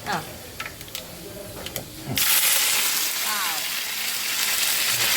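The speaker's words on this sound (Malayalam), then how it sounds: "നമുക്ക് കരിവേപ്പില ഇട്ട് കൊടുക്കാം." Curry leaves dropped into hot oil with fenugreek and mustard seeds, a sudden loud, crackling sizzle bursting in after a few quiet moments and hissing steadily close by, with a voice heard before it.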